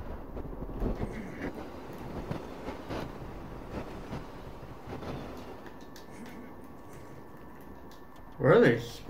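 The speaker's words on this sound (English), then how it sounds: "Oh, here comes that train." A train rumbles past on the Express map in Call of Duty: Black Ops Cold War, a steady low rolling clatter with faint metallic tones, under occasional talk and ending in a brief louder burst.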